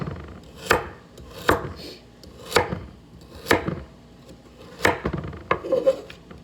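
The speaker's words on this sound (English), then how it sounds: "keep chopping here. I think we can get through the carrots." A knife chops carrots on a cutting board for lima bean chili: sharp, separate thuds at an uneven, unhurried pace, close and clear with a quiet room behind.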